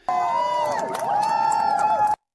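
A large outdoor political crowd cheers and chants, loud and sustained, with voices rising and falling together in a continuous roar that cuts off abruptly.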